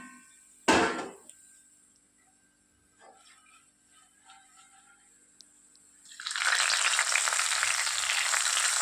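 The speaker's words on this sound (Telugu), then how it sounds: "తాలింపు రెడీ అయిపోయిందండి ఈ తాలింపుని మనము పచ్చిపులుసులోకి యాడ్ చేసుకుందాం" Tempering (talimpu) poured into pachi pulusu tamarind soup: a sharp clatter, then quiet faint clicks, then a loud sustained hissing sizzle rising near the end, close by.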